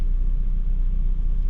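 A rear-engined sports car idling, a steady low rumble heard close and continuous with no speech.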